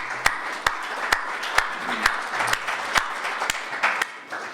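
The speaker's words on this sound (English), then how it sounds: "So we'll give a round of applause to the volunteers who worked on this program." Audience at an MIT evening program on intelligent homes claps for the volunteers, with a dense mass of applause punctuated by sharp, evenly spaced loud clicks.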